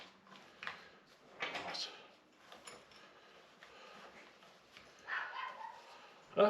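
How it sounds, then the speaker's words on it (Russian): Dogs scamper about nearby with light pattering movement, a few soft yips and bark-like sounds, and occasional clattering, all fairly faint in a quiet room. "Собачки у нас там бегают."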